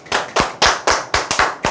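Several people clap together in quick, evenly spaced bursts, about seven sharp rounds in under two seconds, close and loud with no talk over them.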